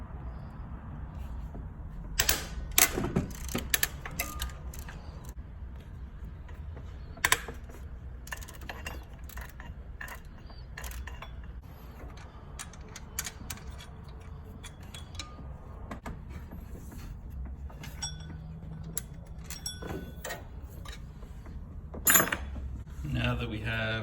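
Hand tools working the 12 mm alternator bolts on a 2006-2011 Honda Civic 1.8L, scattered metallic clinks, ratchet clicks and tool taps over faint background, with someone talking at times.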